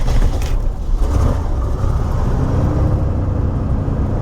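An RV engine turns over and settles into a steady, loud running drone with rough low rumble, continuous and close, no talking.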